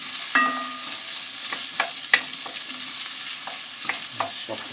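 Onions softening in a pan for a hotpot, a steady low sizzle with scattered scrapes and clicks of a spoon stirring, close and fairly quiet, no talking.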